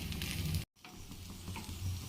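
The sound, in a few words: frying fish egg rice mixture with spices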